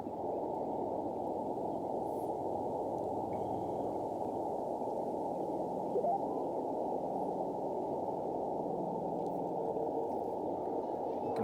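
Steady hiss of radio band noise on an Elecraft KX2 with a dipole antenna fills the whole stretch, with a faint, barely discernible signal buried beneath it.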